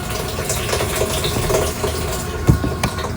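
Fuel draining from the tank of an Audi SQ5 running E85-blend fuel, a steady, close, gushing pour of liquid with one brief knock near the end and no talk.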